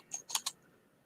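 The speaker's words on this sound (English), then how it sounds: "so I'm just gonna do a little bit of typing." A few quick keystrokes on a computer keyboard, three or four close, crisp clicks in a short burst, then quiet.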